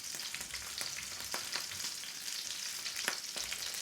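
Salmon skin fries in a hot skillet, giving a steady close sizzle with sharp crackles and pops scattered throughout, and no voices.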